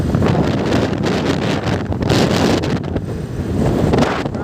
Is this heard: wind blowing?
yes